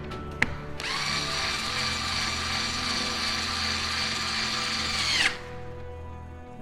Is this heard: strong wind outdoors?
no